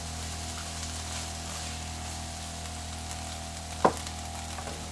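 Onion frying and stirred in a pan, a steady low sizzle throughout with a single sharp clink of a utensil near the end, no voices.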